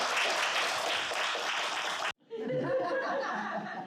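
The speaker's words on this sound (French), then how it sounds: "On vous applaudit une dernière fois. Bravo." Audience applause with some light laughter at the close of a news presentation, a burst of clapping that stops abruptly, then resumes with scattered, softer claps.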